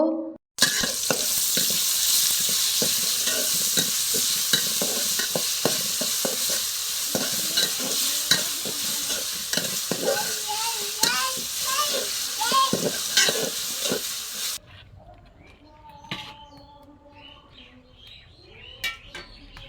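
Cabbage and chicken fry in a pan with loud, continuous sizzling and frequent scraping stirs for most of the clip, then the frying drops out and quieter kitchen sounds and birds chirping in the background remain.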